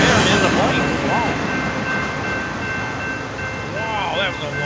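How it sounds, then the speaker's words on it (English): Long Norfolk Southern freight train NS 121 rolling past at a road crossing, a steady close rumble with rhythmic wheel clatter and squeals, no horn, holding level throughout. "Wow, that was a long train."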